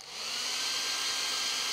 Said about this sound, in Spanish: Y ahora, en cero, va el secador de pelo.